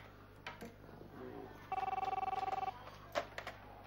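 A telephone bell ringing in a rapid trill lasting about a second, loud and close, with brief speech and clatter around it.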